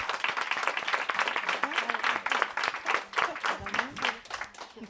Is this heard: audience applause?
yes